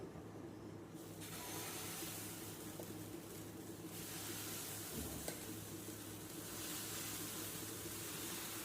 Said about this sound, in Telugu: ఇప్పుడు దీని మీద సెట్ దోశ వేసుకుందాం